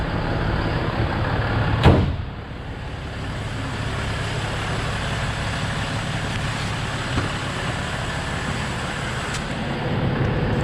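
A Ram 4500 pickup truck engine idles steadily and loudly nearby after a transfer case explosion, a low continuous rumble with a brief clunk early on, no voices.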